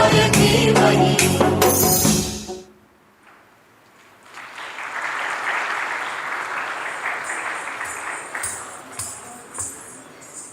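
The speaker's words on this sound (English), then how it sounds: "Let's give her a huge round of applause" Applause from an audience at a university MBA and BBA inauguration ceremony follows a devotional song performance, starting after music ends and continuing as a sustained, moderately loud clatter of clapping with no talk over it.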